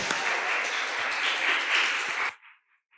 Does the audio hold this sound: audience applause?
yes